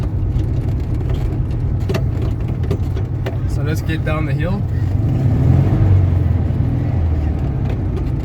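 1971 VW Beetle 1300 air-cooled engine droning steadily from inside the car while driving, with brief gear shifts and someone talking over it throughout.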